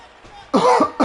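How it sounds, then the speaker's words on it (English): A person coughs twice in quick succession, loud and close to the microphone, after a brief quiet moment with low background hum. "I'm so sorry for coughing"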